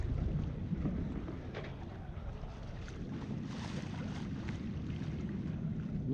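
A Dufour 375 GL sailboat under sail heading toward the Pyrenees, heard as a steady rushing wash of water and wind buffeting the microphone, continuous and fairly loud with no talk.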